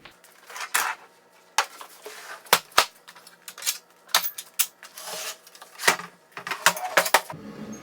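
A folding table for varnishing acrylic paintings is set up, with close metallic clanks, clicks and rattles from its legs and frame in uneven bursts, no voices.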